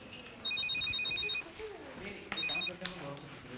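A telephone rings in a scene from a Hindi TV drama, with two bursts of a bright, repeating electronic trill, a longer one followed by a shorter one, heard over faint room ambience and low voices.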